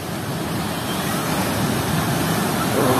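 Ocean surf rolling onto the beach at Labuhan Jukung, Krui, West Pesisir, Lampung, heard as a steady, loud wash of broadband noise with slight wind buffeting and no pauses, building a little toward the end.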